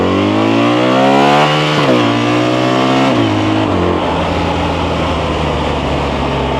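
A BMW R1300RT boxer-engine motorcycle accelerates hard, its loud engine note climbing through several gears with brief dips at each shift, then settling into a steady roar with wind rush.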